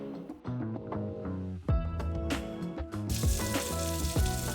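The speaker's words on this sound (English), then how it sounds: "Can we get an audio boost on that sizzling there?" Steaks fry in butter in a pan, a loud, crackling sizzle running continuously with bursts that flare up several times, heard alone and close.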